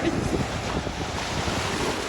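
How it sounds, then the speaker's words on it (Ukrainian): Waves and wind churn on a stormy lake, a continuous rushing wash of surf with strong wind buffeting the microphone, loud and steady without speech. "у нас сьогодні хвилі, як на морі"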